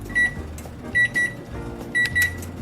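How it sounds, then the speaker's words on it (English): A kitchen timer on a stovetop beside a simmering plant-based puttanesca sauce beeps in three short bursts of rapid electronic tones, close and clear over a low kitchen hum. "Our 15-minute timer went off"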